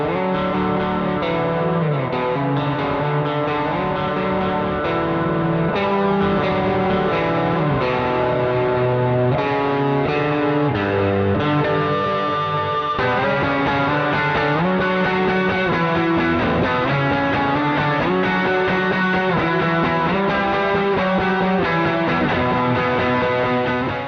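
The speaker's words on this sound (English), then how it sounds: "So you just heard boost into overdrive, into delay, reverb, and then out to an amp." Electric guitar played steadily through boost into overdrive, then delay and reverb into an amp, sustained distorted chords and notes ringing out with echoing tails, loud and continuous.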